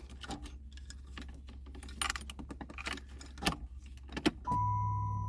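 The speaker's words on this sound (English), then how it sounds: "I heard the fuel pump kick on" Fuel pump priming on a 1989 Chrysler LeBaron GTC Turbo: keys jangle and rattle around the ignition, then a steady, close electric hum starts abruptly and holds to the end.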